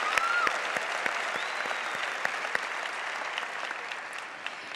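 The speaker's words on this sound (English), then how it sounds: "So let's give you a round of applause." Students at a university gathering applaud together at a moderate distance, a steady wash of many hands clapping with a few sharper individual claps standing out.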